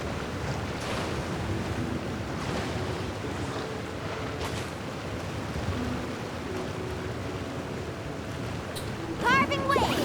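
Ocean waves wash and surge steadily while surfing in the video game Genshin Impact, a continuous wind-blown water rush throughout, with a brief bright chirpy game effect near the end.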